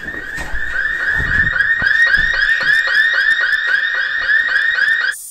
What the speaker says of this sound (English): once again the alarm is already going off.